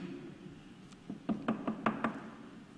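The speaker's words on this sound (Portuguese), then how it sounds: "bate na porta aí, Nessa" Knuckles rap on a door at close range, a quick run of five or six knocks after a soft tap, in an otherwise quiet room with no one talking.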